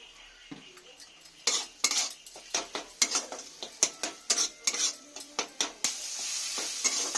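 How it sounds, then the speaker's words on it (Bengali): Pointed gourd with poppy seed paste and egg being stir-fried in a pan, a quick rhythmic run of metal spatula scrapes and clinks over a soft sizzle, close and steady. "একটু সামান্য তেল দিয়ে আর একটু ভেজে নেব।"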